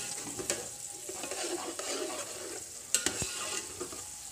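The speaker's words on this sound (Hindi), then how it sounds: "अब हम इसमें ऐड करेंगे अदरक लहसुन का पेस्ट।" Ginger garlic paste frying in a pan for chicken pulao, a close, steady sizzle with scraping stirs and a few sharp utensil knocks against the pan.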